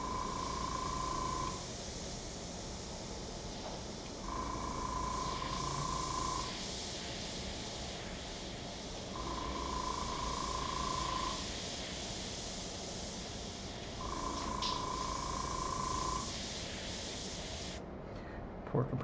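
Airbrush compressor hissing steadily while spraying marker-and-airbrush artwork of a Ferrari F40 LM, a continuous broadband hiss with brief tonal pulses cycling on and off, running for most of the stretch before cutting out near the end.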